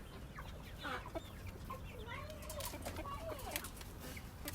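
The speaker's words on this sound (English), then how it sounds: "these are my hens that we keep in here" Hens clucking and murmuring at moderate distance, with short repeated calls over a steady background rustle; no talking.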